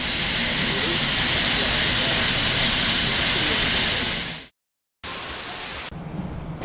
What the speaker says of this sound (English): Durango and Silverton employee Scott takes his place in the escaping steam of the K-36 for the benefit of the photographers gathered.